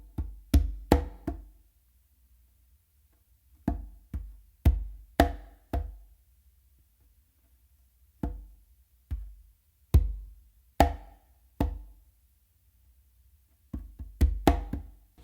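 Conga drums play a sparse funk a caballo pattern mixing soft ghost notes, deep open bass tones and sharp slaps. The strokes come in short clusters separated by pauses and are recorded up close with no voices.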